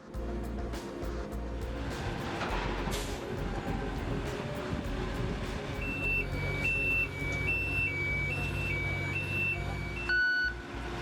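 Heavy military construction machinery rumbles loudly while a reversing alarm sounds a regular series of high beeps partway through.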